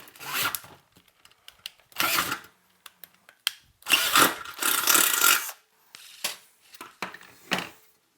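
Drilling a hole through a metal tube amplifier chassis, heard as several separate bursts of grinding, rasping bit noise with quiet pauses between them, fairly close and loud with no talking.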